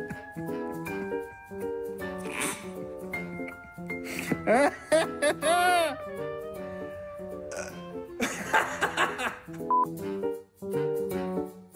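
Telephone dialing tones beep through a busy musical backing, with a brief warbling electronic flourish in the middle.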